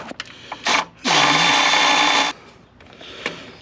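A 10mm power tool whirs in a loud burst of a second or so, loosening an intercooler pipe hose clamp on a turbocharged FL5 Type R or DE5 Type S, bracketed by short clicks and a brief earlier spin.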